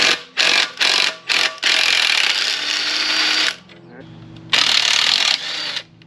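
An impact-style power tool rattles off a nut on a Wrangler TJ rear axle in four short loud bursts, then one long sustained run, a quiet pause with a faint hum, and a final burst.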